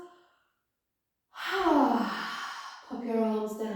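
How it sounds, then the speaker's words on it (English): A long, audible exhale through the mouth during a yoga session, a breathy sigh-like release that follows a brief silence and then tapers into a second softer breath. "Maybe exhale through the mouth."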